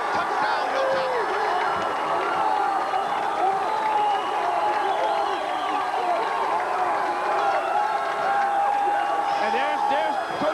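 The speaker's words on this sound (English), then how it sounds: "listen to that crowd, and they're just going crazy" A dense, roaring high school football crowd at a 1990 Joliet Catholic game cheers and screams nonstop after a touchdown, with steady loud crowd noise, shouts and whistles under an announcer's voice.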